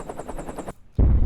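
Rapid bursts of machine-gun fire rattle for a moment, a brief pause, then a loud, heavy explosion-like boom erupts close by.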